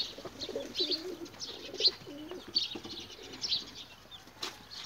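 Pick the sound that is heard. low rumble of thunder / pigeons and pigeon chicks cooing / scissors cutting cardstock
pigeons and pigeon chicks cooing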